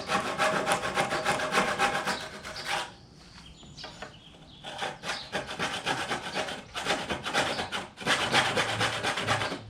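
Small handsaw rasping back and forth through a clamped wood board, steady rhythmic strokes close up, with a brief pause in the middle before sawing resumes.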